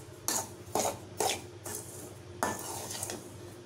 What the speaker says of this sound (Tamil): நல்லா கொஞ்சம் நேரம் இப்படி வறுத்து போட்டுங்க, கை விடாமல்.